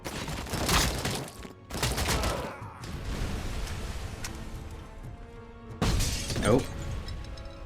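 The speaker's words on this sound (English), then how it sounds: "I think another grenade must have been there." A grenade blast goes off in the RoboCop: Rogue City shooter, a loud broadband crash with shattering debris near the start, followed by gunfire and rumbling combat noise, and a second burst late in the clip.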